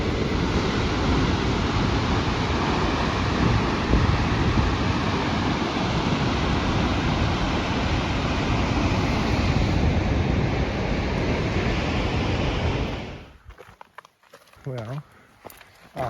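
A large waterfall at Wells Gray roars as a loud, continuous rushing wash for about thirteen seconds, then cuts away to quieter outdoor sounds.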